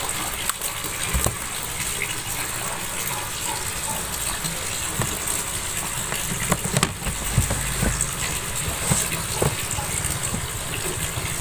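A submersible pump pushes water into a homemade filter for a concrete fishpond, giving a steady, close gushing and splashing rush that holds at even loudness throughout, with small knocks and spatters on top.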